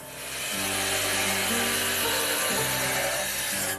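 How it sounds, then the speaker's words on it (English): A gem polishing wheel in an Afghan gemstone workshop grinds steadily against stone, a loud continuous abrasive rubbing with a humming motor tone and no voices. "Noor Ahmad Shirzad has been polishing gems for more than 30 years."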